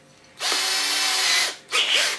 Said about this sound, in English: I'm gonna drill right down beside the bolt, actually in toward the bolt with a little teeny drill bit.